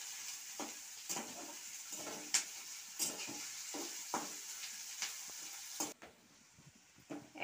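Onion, garlic and chili fry in a pan with a steady soft sizzle, punctuated by regular scrapes and clinks of a spatula stirring, no talking.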